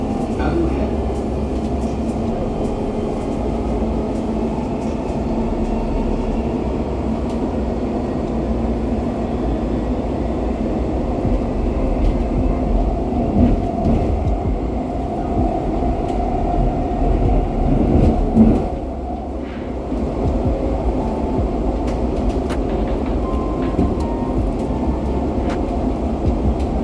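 Dubai Metro train running between stations, a steady close rumble of wheels and motors filling the carriage from inside, with a recorded announcement voice speaking over it.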